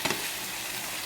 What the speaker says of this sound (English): And we're gonna let it simmer,